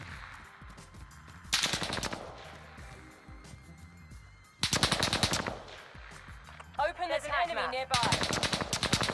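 Loud automatic weapon bursts in a video game crackle in three main volleys, separated by quieter stretches, with a brief voice between them.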